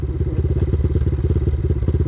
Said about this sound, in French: La moto, elle a calé.